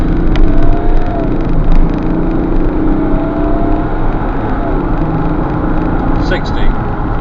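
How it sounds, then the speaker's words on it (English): A 2003 Mercedes E320 CDi accelerating hard from a standstill, a continuous engine roar building under wind and road noise, heard from inside the car for the whole stretch. "Now, 0 to 60 test, 3, 2, 1, and we're going."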